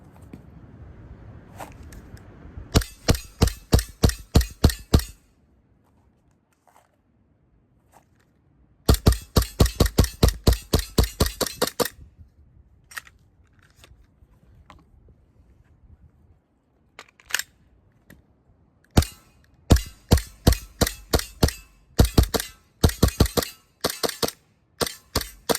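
AW Custom VX7 Z80 airsoft pistol fired at close range in cold weather: several rapid strings of sharp, snappy cracks, each burst of roughly eight to ten shots, separated by pauses and a few scattered single shots.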